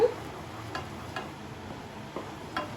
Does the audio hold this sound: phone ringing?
no